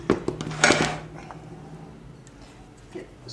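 Spoon scraping and clinking against a bowl while mixing heavy condensed-milk biscuit dough, a cluster of close knocks and scrapes early on, then quieter intermittent scraping with a small clink near the end.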